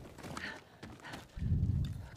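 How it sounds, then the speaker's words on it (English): Hooves clop in the samurai video game Ghost of Tsushima, a few scattered footfalls first, then a heavier thudding run of gallop-like beats in the second half, fairly quiet. "Where can I find a horse? The stables aren't far."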